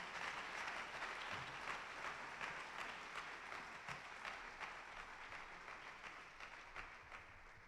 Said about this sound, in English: Let's give these outstanding Windsor Scholars a round of applause.